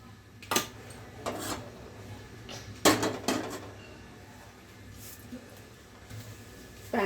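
A metal pan is set down on a kitchen stove with a few short clanks and knocks spread over several seconds, and a faint room hum sits in the background.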